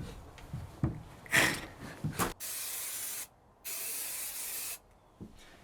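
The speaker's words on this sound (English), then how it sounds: "So I went and got this 3M industrial grade adhesive spray." 3M industrial grade adhesive spray hisses from an aerosol can in two long, even bursts, each about a second, preceded by a few short spritzes and clicks, close to the microphone.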